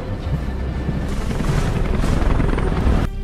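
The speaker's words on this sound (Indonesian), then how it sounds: "langsung dijemput helikopter tim evakuasi Angkatan Udara Amerika" Helicopter rotor roar in an action film about an Air Force evacuation in Los Angeles, loud and steady with thick low-end thumping, cutting off abruptly just after three seconds.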